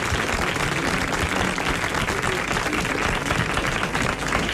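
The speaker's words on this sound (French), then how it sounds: "je voudrais que vous applaudissiez tout de suite le nouveau père, Jacques Martin" Studio audience applauding a new father on a French radio-television talk show in 1987, steady dense clapping filling the whole stretch at full volume with no pause.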